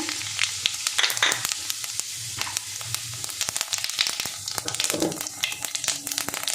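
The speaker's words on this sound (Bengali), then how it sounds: "এর মধ্যে আমি গোটা জিরেটা দিয়ে দিলাম।" Whole cumin seeds sizzle in hot oil for egg tadka, a steady close frying hiss scattered with small crackles and pops that runs throughout, with no voices.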